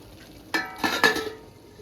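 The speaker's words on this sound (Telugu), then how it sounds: "ఇప్పుడు మూత పెట్టుకుందాం." A metal lid set onto a pot of Andhra-style dondakaya (ivy gourd) dal, giving three quick clinks and clanks close by over a quiet kitchen background.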